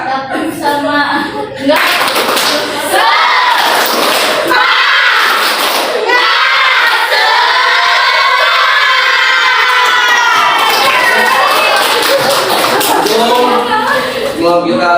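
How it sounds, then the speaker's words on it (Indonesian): A crowd of children does an Indonesian 'tepuk semangat' clap, clapping together in a fast patterned rhythm, loud and close, with shouting and chanting voices throughout. "Tepuk semangat."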